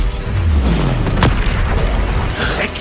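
A loud Expelliarmus spell cast in the Hogwarts Legacy video game during combat, a booming burst with a rushing whoosh and a sharp crackle near the middle, continuous and full-bodied throughout.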